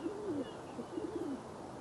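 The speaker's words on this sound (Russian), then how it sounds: "Вот проклятые голуби, удушил бы." Pigeons cooing in a few soft, low, rounded calls over the first second and a half, fairly faint against a quiet background hum.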